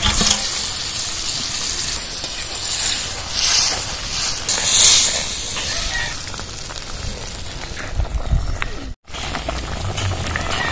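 Spinach fritters go into a pot of boiling gravy, which bubbles and sizzles steadily up close, with some stirring and brief clatter, and a momentary cut near the end.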